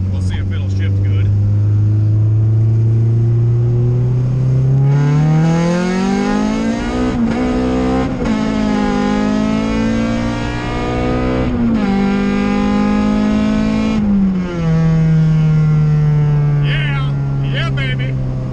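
A car with a B20 VTEC engine and hydraulic-clutch transmission swap revs loudly, its pitch climbing through each gear with sharp drops at the shifts, heard close and continuous.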